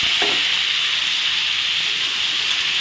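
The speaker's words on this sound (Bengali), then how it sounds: "তেলে একটু ফোড়নটা ভেজে নিলাম ভাজা হয়ে গেছে ফোড়নটা এখন আমি আলু দিয়ে দিলাম" Steady loud sizzling of potatoes frying in hot oil, a continuous hiss with no talking.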